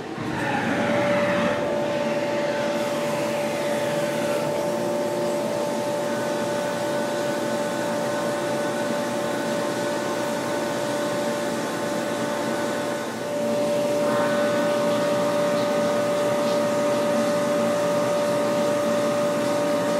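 A CNC machine running a pallet machining operation with a half-inch end mill, a loud, steady whine and rushing hum that holds for the whole stretch with one brief dip, no talk.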